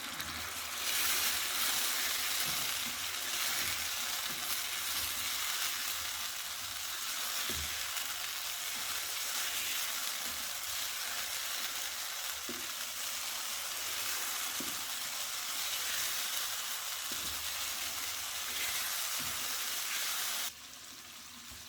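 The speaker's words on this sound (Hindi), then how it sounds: "अभी हमने इसे मीडियम फ्लेम पे 7 to 8 मिनट्स के लिए फ्राई करना है।" Black pepper chicken frying in a pan over a medium flame gives a steady, close, loud sizzle with faint crackles throughout, easing slightly right at the end, with no talking.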